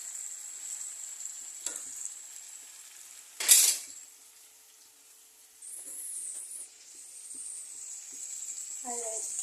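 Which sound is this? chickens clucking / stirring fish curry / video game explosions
stirring fish curry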